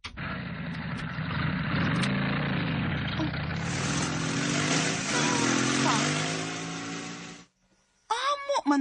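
A motorcycle engine runs steadily and loud, its drone building slightly before cutting off abruptly, followed by a brief moment of quiet and then a voice speaking.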